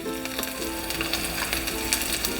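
Chicken gizzard and liver, already boiled, fry with cumin, coriander and chili powder in a pan, giving a steady loud sizzle with occasional crackles and stirring scrapes, no voices.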